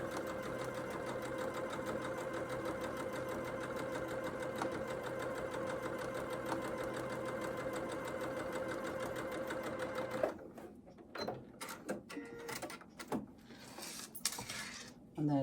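A sewing machine stitches steadily at normal stitch, pressure foot and tension, making a continuous close whirring hum for about ten seconds before stopping, followed by scattered handling clicks and rustles.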